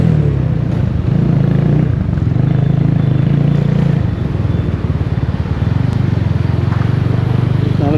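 Tuned Benelli TNT25 motorcycle on a ride, a loud steady engine drone with wind rush, the pitch shifting slightly as the throttle changes, heard close from the rider's position.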